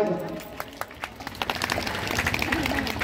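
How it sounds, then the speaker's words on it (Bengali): An audience applauds in a hall, a burst of clapping starting in scattered claps and swelling into steady, dense applause, with a voice talking over it early on. "একটু হাততালি দিয়ে সবাই।"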